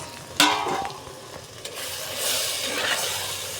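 Brinjal cooks in a pan, giving a continuous close hiss of sizzling that swells toward the end, with a couple of sharp scrapes of stirring early on.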